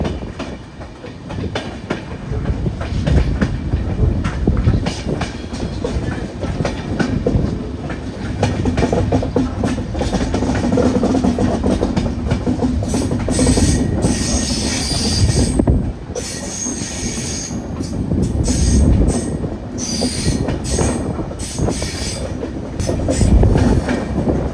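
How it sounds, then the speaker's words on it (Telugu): A passenger train runs on the Jodhpur to Jaisalmer line through the Thar Desert in Rajasthan, with loud continuous rumbling, rattling carriages and high wheel squeals heard from inside, steady and close. "సో ట్రైన్ ఎం లోహావత్ అనే స్టేషన్ కి అయితే వచ్చింది అనమాట."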